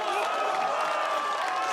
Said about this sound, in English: You all cheering like you did nothing.